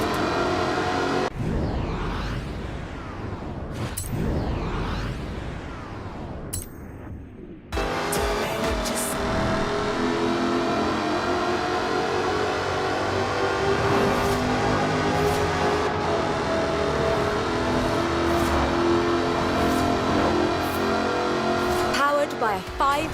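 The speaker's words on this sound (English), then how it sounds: "By a 5-litre V8 supercharged engine." Car with a 5-litre supercharged V8 in Forza Horizon 4, heard first in a few sweeping passes, then as a sustained loud engine drone with shifting gear tones, while a narrator talks over it.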